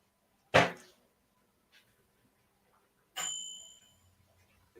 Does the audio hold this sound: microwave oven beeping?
yes